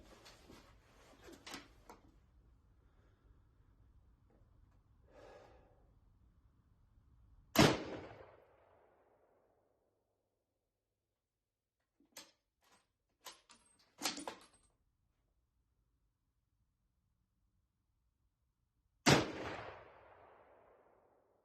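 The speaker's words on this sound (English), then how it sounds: "This is the very first 2 shots out of this rifle." Two loud, sharp rifle shots from a Remington 1903A4 at an outdoor range, each cracking and then trailing off in a short decay, about eleven seconds apart, with some quieter handling clicks in between and no talking.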